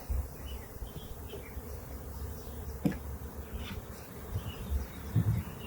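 Honeybees from a package hive hum around the box during installation, a faint, continuous buzzing with a few louder close passes and light handling knocks nearby.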